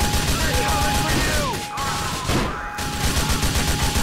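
Loud, dense gunfire fills a shootout in GTA 4: The Lost and Damned, a sustained barrage of shots and crashes with a brief dip midway. Voices can be heard under the shooting.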